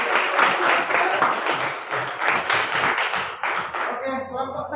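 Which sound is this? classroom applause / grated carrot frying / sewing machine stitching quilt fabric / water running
classroom applause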